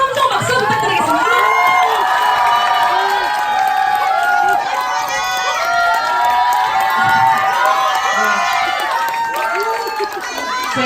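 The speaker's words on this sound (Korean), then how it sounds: "큰 함성 박수 부탁드리겠습니다" A large indoor audience at a beauty creator academy lecture cheers, shouts and applauds loudly and continuously, a dense wall of whoops and clapping with voices mixed in throughout.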